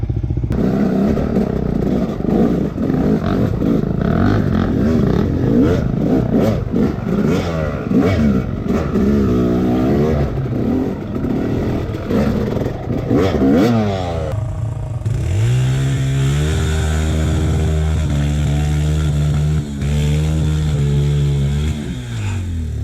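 A dirt bike's engine revs hard and close on a muddy trail on the Karapoti ride to Orange Hut, its pitch climbing and dropping in repeated surges, then settling into a steadier drone with rhythmic throttle swells.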